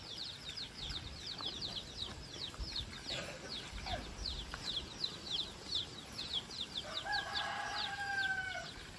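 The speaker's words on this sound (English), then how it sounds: "you hear chickens and roosters, pigs" Chickens cluck and a rooster crows in a tropical morning village setting, with pigs also nearby; repeated bird calls run throughout over a steady outdoor background, the crow rising loud near the end.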